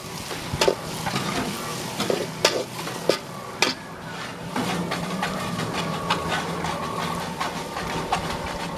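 Tomatoes and curry leaves frying in a pan for a dried fish and brinjal kuzhambu, a steady sizzle punctuated by several sharp spatula scrapes and clanks, then a denser, even crackle.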